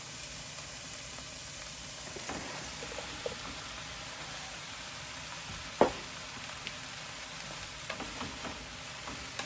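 Brussels sprouts sizzle and fry in a hot pan, a steady crackling hiss that carries on throughout, broken by a few clicks and a sharper knock near the middle.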